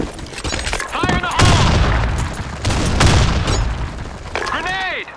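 Gunfire and grenade blasts in the shooter game BlackShot, loud close bursts and booms with shattering debris, mixed with shouted voices.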